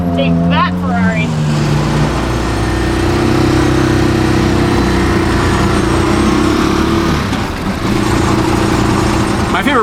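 A tuk-tuk's small engine drones steadily while driving through Tokyo streets, loud and close and holding for the whole stretch, with brief voices near the start.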